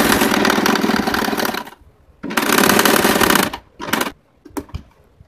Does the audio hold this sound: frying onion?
no